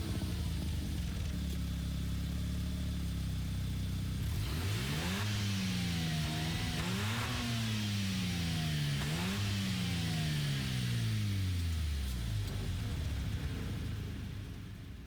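Simulated Suzuki Cappuccino 1991 fitted with an RX-7 rotary engine in a racing video game, revving hard through several rising gear pulls with shift drops, loud and close, no talk.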